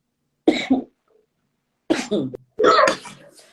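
A few coughs and throat-clearing sounds, close and fairly loud, separated by short silences.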